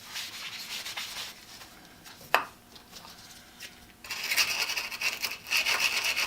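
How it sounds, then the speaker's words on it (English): Wire brush scrubbing raised lettering on a metal cap being cleaned of paint stripper, a steady close-up rasping scrape that turns louder and denser in the second half, with one sharp tap partway through. "Using the wire brush just to get down into those letters and things."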